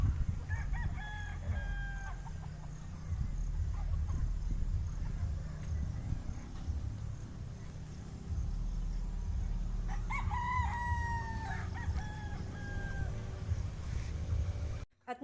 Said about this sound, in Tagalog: nag-ipon-ipon na ang mga cockerels sa may kubo